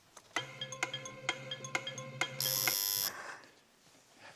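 A game show contestant's buzzer on a Countdown conundrum round gives a single loud, sustained harsh electronic tone lasting about half a second, following a run of plucked musical notes from the show's theme.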